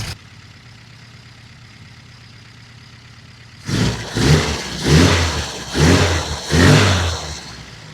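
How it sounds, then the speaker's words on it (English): A classic Mini fitted with a large carburettor idles quietly at first, then revs hard in five or six loud, throaty bursts close to the microphone. "It was running quite rich, so I've leaned it off slightly, adjusted the idle, and it's running beautiful, as you can hear."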